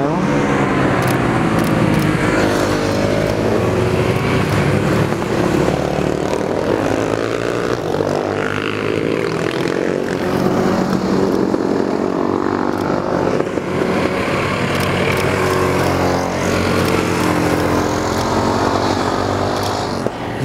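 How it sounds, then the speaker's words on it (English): Motorcycles and cars on the Tail of the Dragon mountain road roar past in a loud, continuous stream of engine noise that swells and fades as vehicles pass close by, with no talk. "There's been some pretty big groups of bikes and cars, but it comes and goes"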